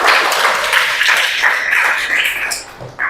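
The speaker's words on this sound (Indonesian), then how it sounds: "ya tepuk tangan untuk Ayah" A class gives a short, dense round of applause, loud and close, briefly thinning near the end before a final burst.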